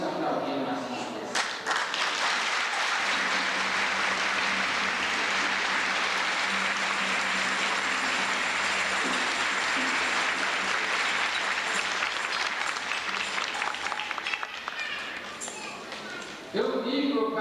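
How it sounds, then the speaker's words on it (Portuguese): Audience applause at a parish patron saint festival, sustained loud clapping from a crowd for about fifteen seconds before fading, with voices mixed in. "Podemos aplaudir mais uma vez."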